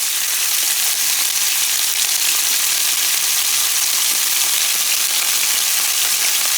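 Cube steak sizzles in a hot pan for Puerto Rican bistec encebollado, a loud, constant hiss of frying fat with faint crackles and no talking.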